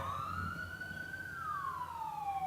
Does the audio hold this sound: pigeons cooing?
no